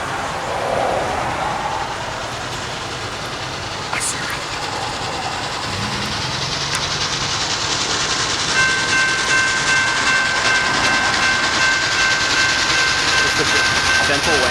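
Steam locomotive 611 passes near at speed, a steady roar of rolling wheels and rushing noise filling the whole stretch, with a brief horn tone partway through and a sustained whistle-like tone later.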